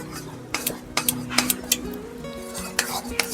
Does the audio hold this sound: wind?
no